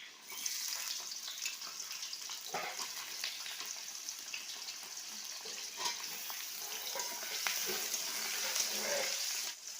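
Onions frying in hot oil in a wok while mutton curry is being cooked, a continuous bright hiss with occasional soft stirring clicks, close and steady, with no voices.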